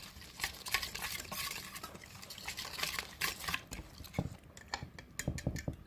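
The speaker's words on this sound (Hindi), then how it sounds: "अच्छी तरह से मसालों को पहले मिक्स करेंगे।" Spices being stirred into chicken, a steady scraping and clinking of a spoon against a pot with wet mixing noises, close and continuous, with no voices.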